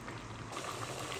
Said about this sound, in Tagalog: Kumukulo na mga friend.